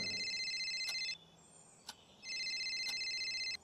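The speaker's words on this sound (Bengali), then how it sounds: "এমন সময় তানিয়ার মোবাইলে একটা ফোন আসে।" A phone rings in two electronic bursts separated by a short gap, fairly faint, with a few soft clicks in between.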